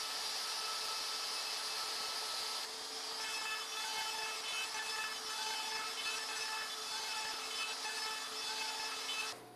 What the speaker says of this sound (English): So I set it up to cut the smaller disc flywheel from that big disc of wood.